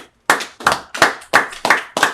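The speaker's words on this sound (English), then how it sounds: "Clap it up for the brother." An audience at a Feast of Trumpets gathering in Milwaukee claps six crisp, evenly spaced beats, close and loud, with no talking.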